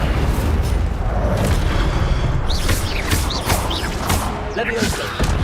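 The Incendio fire spell bursts in Hogwarts Legacy with a heavy, rumbling explosive boom under loud game audio, followed by crackling flame and layered effects, with a voice shouting over it.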